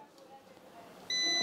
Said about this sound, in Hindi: ये देखो यहाँ भी बीप